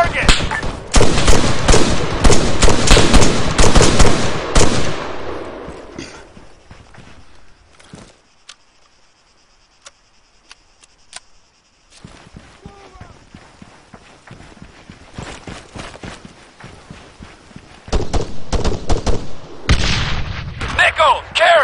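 ArmA 3 combat, with dense bursts of rifle and machine-gun fire crackling at the start, a quieter lull with scattered shots, then heavy firing returning near the end.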